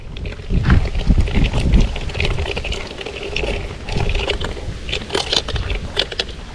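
Strong gusting wind buffets the microphone outdoors while a Thai Chula kite is flown in stormy weather, a loud continuous roar with rushing surges and flapping rattles, no clear speech.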